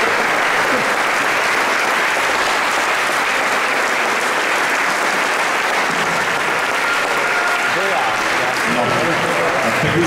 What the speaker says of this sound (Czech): to zaslouží potlesk